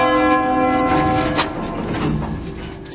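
Church bells rung by hand in a solemn concert in Bresso, near Milan, sounding as a dense, loud peal of overlapping ringing tones that decay and restrike throughout.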